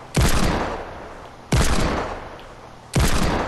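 Three heavy blasts of gunfire in the Fortnite video game, each a loud, sudden burst that rings out and fades slowly before the next, evenly spaced with no talk.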